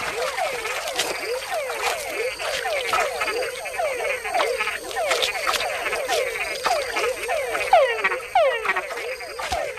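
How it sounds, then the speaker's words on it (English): Frogs in the Panamanian wild call in rapid, overlapping chirping croaks, loud and close, repeating in quick trills over a dense chorus of more distant callers. "And with other bigger frogs nearby, a call can be a fatal attraction."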